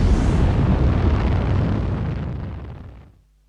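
Orion maritime patrol aircraft launching in the naval warfare game Command: Modern Naval/Air Operations, a loud sustained roaring blast that rumbles heavily, then thins and fades out over about three seconds.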